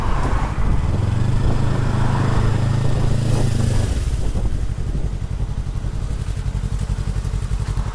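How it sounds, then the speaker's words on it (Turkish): A 2022 Yamaha MT-03 motorcycle with its stock exhaust runs close by, a steady engine drone with a low throbbing tone for the first few seconds, then a rougher, pulsing idle. "baksana stok egzozu olmasına bile rağmen sesi hani insanı tatmin edecek gibi"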